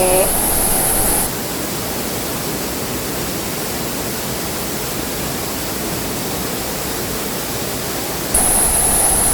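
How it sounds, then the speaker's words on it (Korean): Ara Waterfall in Incheon pours in a steady, loud wash of broadband water noise that holds evenly throughout, slightly brighter at the start and end. "오늘은 인천 아라폭포에 도착했습니다"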